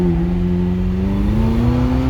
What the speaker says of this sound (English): Engine revs for Jesus.